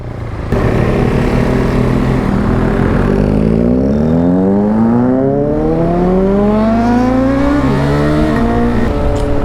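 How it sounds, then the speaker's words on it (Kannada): A motorbike engine revs hard on a city road during a ride, loud and close, its pitch climbing steadily through one long acceleration with no talking. "ಗಾಡಿ ಮಾತ್ರ ಹೆವಿ ಸೌಂಡು ಗೈಸ್"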